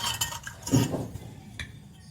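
A metal spoon stirs inside a small toy cooking pot from a mini kitchen set, giving a few light clinks and scrapes with a brief louder clatter, close and alone.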